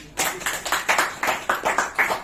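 At a motivational business seminar, an audience claps in a steady, evenly spaced rhythm, about nine crisp, fairly close claps in quick succession with no talking.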